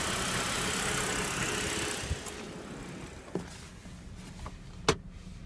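A warmed-up BMW E60 5 Series idles with its radiator fan running after cooling-system bleeding, a steady broadband hum with a low rumble and a few faint clicks.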